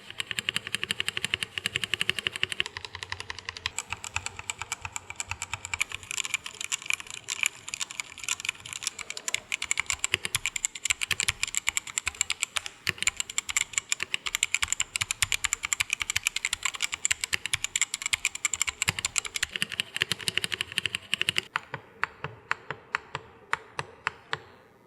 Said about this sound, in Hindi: एक छोटा सा साउंड टेस्ट आपके लिए, और उसके बाद आप मुझे कमेंट करके नीचे बताना कि आपको कीबोर्ड का साउंड आखिर कैसा लगा।